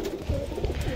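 A male doyaj pigeon in a carrier gives a single short, soft coo, close by.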